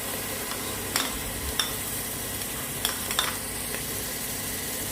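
Mint paste frying in a pan for a mint sweetcorn rice dish, a steady hiss of sizzling with a few light utensil taps and stirs scattered through.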